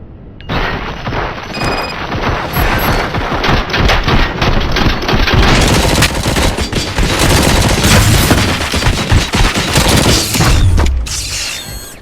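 Heavy sustained gunfire from a cutscene in the video game Robocop Rogue City, loud, dense volleys and rapid bursts with booming impacts and shattering, continuing almost without pause for about ten seconds.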